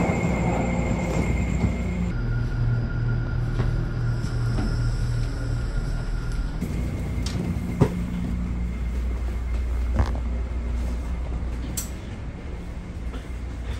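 A train pulls into a New York station for boarding, with a steady low rumble and hum throughout, a few sharp metallic clanks around the middle, and a slight easing of the noise near the end.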